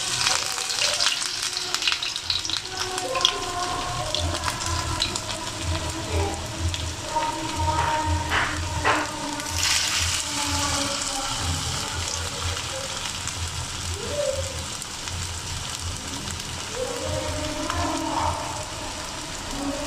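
Winter-vegetable pitha fries in hot oil, a dense, steady sizzle and crackle running throughout, close up, with occasional scraping of a utensil stirring in the pan.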